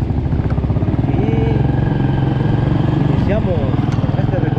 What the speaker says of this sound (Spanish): vamos a probarla hoy con un recorrido en moto por Las Peñitas